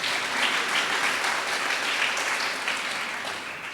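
Audience applause at the grand opening of a Los Angeles housing tower, a steady wash of many hands clapping throughout, fairly even in loudness and fading slightly at the end.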